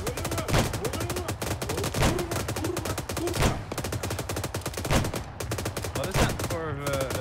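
Arma 3 military game: rapid automatic gunfire rattles in fast, continuous bursts, loud and close, with a few heavier shots standing out.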